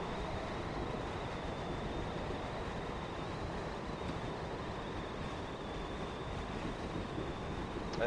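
A train decelerates on the Hope Valley route in a train simulator game, a steady low rumble of wheels and rolling stock with a faint constant whine, no voices.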